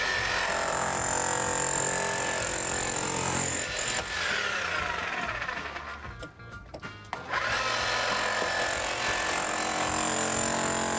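A large power chisel hammers at old brick on a house exterior during a remodel, a loud continuous rattling drone that dips and thins briefly midway before returning at full strength.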